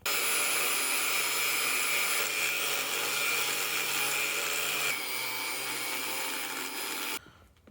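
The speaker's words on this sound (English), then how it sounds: "I'm going to grind them off." An angle grinder cuts through old bolts on a 1994 Jaguar XJS V12 facelift, giving a loud, steady, harsh metallic whine that holds for about seven seconds before cutting off abruptly.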